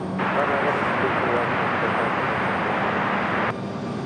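A jet airliner takes off from runway 23 Right at Raleigh-Durham International Airport, a loud, steady engine roar filling the whole span and easing slightly near the end, with a voice faintly present beneath it.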